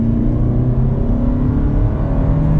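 A 2025 Toyota Camry XSE AWD hybrid with a naturally aspirated engine accelerates hard onto a highway. Its engine drone and road roar stay loud and steady, with a slight rising tone throughout.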